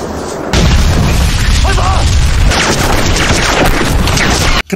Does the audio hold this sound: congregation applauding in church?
no